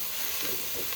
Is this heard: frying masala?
yes